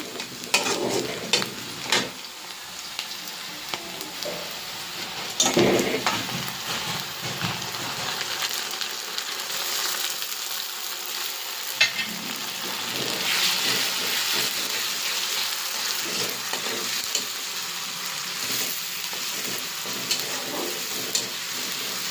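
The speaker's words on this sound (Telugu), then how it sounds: "పచ్చి వాసన పోయే వరకు వేయించుకోవాలి" Ginger-garlic paste and coriander-cumin paste fry for a crab curry, hissing in a steady, close sizzle that runs throughout. Occasional stirring scrapes rise above the sizzle, and no one speaks.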